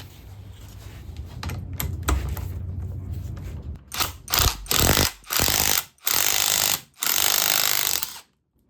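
Pitman arm puller working on the steering pitman arm of a Mazda B-series pickup, with a grinding, ratcheting buildup followed by a rapid series of loud, close mechanical bursts, each ending abruptly.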